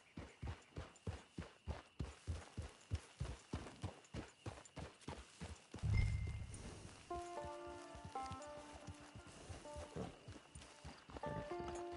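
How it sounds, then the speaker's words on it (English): Horse hooves clip-clopping at a steady walking pace in Red Dead Redemption 2, regular close thuds for about six seconds, then a deeper rumble and a tonal musical sting as the hoofbeats fade under it. "Get your horse."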